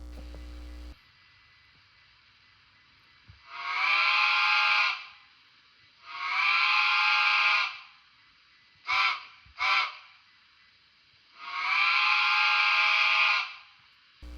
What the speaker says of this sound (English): So for sounds, we have the whistle,